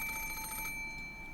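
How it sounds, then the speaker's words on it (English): An antique extension telephone in a study rings in a video game, a bright rapid bell trill heard for under a second before it cuts off into a quiet room tone. "suddenly the piercing sound of a phone rang through the room."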